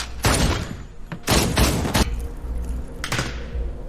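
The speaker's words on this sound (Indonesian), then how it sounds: "Saling tembak pun tak terelakkan" Bursts of gunfire ring out in a tense film scene, three loud, sharp volleys with short gaps between them and echoing tails, no voices over them.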